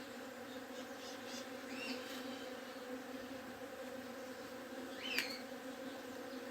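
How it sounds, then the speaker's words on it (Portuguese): Bees hum steadily around a flowering jaboticaba tree, a soft continuous buzz with occasional closer passes of individual insects, heard alone without talk. "E o som das abelhas."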